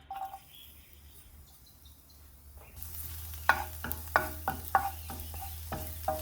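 Garlic dropped into a skillet on medium heat for a carbonara, a quiet start that suddenly bursts into steady sizzling with repeated sharp stirring scrapes and taps against the pan.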